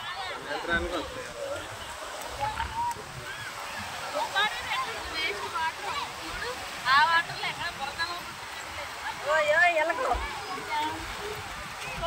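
Sea waves at Kakinada beach wash in as a steady broadband roar, surging louder several times, while people talk over the surf throughout.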